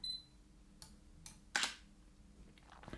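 A Sony camera shutter fires once when triggered from a tethered computer, a short sharp mechanical click standing out from a quiet room with a few fainter ticks around it.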